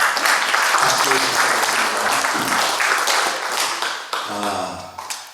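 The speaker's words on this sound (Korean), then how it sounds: "박수" Audience applause breaking out at a Christian social welfare conference panel discussion, dense broadband clapping filling the room and gradually thinning, with voices mixed in toward the end.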